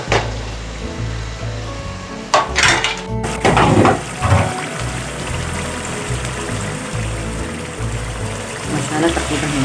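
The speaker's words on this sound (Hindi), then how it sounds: "थोड़ा चमचा चलाएं।" A spoon scraping and clattering against a pot as egg pulao masala with potatoes is stirred, a few sharp metallic knocks near the start and middle over a sizzling bed, with a voice talking throughout.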